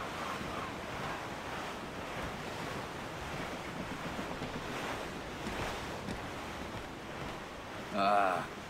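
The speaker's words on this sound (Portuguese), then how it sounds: "O vento está forte agora." Strong wind and rolling sea waves aboard a sailing ship in the video game Assassin's Creed 4 Black Flag form a steady, loud roar throughout. A brief voice enters near the end.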